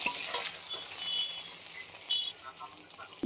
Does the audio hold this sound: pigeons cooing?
no